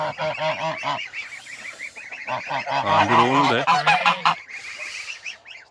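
Several African geese honk loudly and repeatedly up close, their calls overlapping in a noisy chorus, with a person speaking briefly in between.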